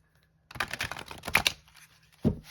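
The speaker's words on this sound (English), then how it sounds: "I'd already done quite a bit of shuffling, so this is just a couple final more shuffles." Tarot cards being shuffled by hand in a quiet room, a quick run of soft papery riffles and taps lasting about two seconds, ending in one firmer slap of the deck.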